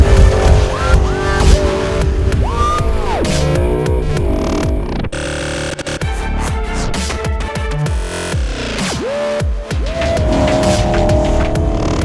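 A BMW E92 M3 imported from Denmark drives hard on a race track, its engine loud and close, revving up and down through repeated rising pitch sweeps as it shifts gears.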